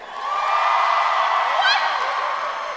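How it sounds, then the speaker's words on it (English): Comedy-show crowd cheering and whooping in a theater, a steady broad roar of many voices that holds throughout, with a single whistle rising near the end. "Cheer if you think that's okay."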